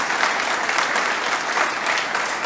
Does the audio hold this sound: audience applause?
yes